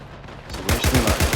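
An MP-40 submachine gun in the Days of War game fires a rapid burst of about eight close, loud shots in steady rhythm after a brief quiet start.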